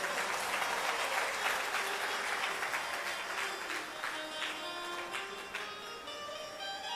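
A crowd at a talk claps in sustained applause, dense and fairly loud, with distinct hand claps in the mix and a gradual easing toward the end.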